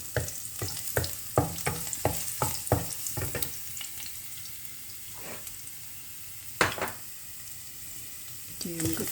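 Garlic frying in a pan until golden, with a series of sharp stirring scrapes and clatters through the first few seconds over a steady sizzle, then a louder clank and further scraping near the end.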